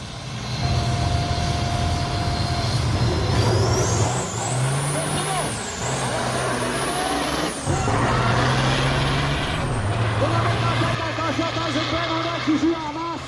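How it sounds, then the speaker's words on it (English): A Mack V8 truck and a Cat-powered Freightliner roar together with a loud, continuous diesel drone and shifting engine pitch as air brakes hiss and gears change. People talk and cheer over the noise. "Mac V8 versus Cat Freightliner."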